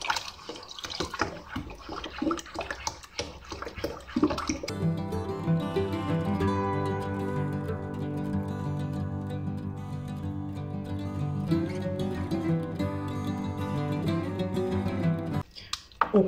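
Room-temperature water poured into a container while making concentrated liquid soap base with cooking oil. Clattering comes first, then a steady close pouring stream runs for about eleven seconds, its pitch shifting as the vessel fills.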